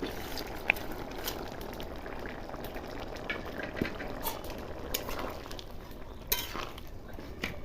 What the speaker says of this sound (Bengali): ঝোলটা ফুটে গেছে, এবার ডাল আর ডিমের বড়াটা দিয়ে নিই